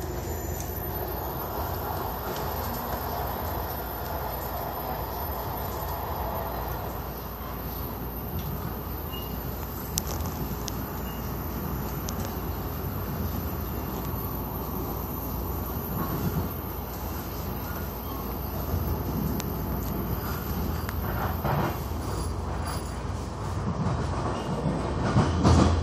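A MARTA rapid-transit train riding along the rails, a continuous loud rumble from inside the car with rhythmic wheel clatter and occasional squeal, steady throughout with no voices.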